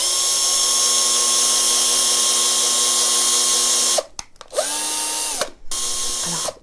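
A drill bores out the inside of a carrot to make a flute, a loud steady high whine for about four seconds, then two short cut-outs with the motor dropping and spinning back up; no talking.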